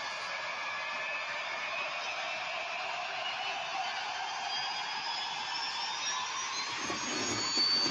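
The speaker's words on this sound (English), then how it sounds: "Amy, bring back the noisy planes." Jet airliner engines give a steady, loud whine and roar that hold evenly throughout, growing slightly stronger at the very end, with no voices over them.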